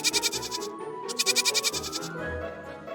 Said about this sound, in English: You've identified the goat.